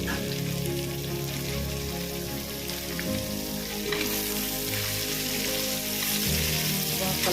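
Bottle gourd pieces frying in oil with ginger-garlic paste, onion and curry leaves in a healthy cookware pan, a continuous rain-like sizzle that holds steady under a soft music bed.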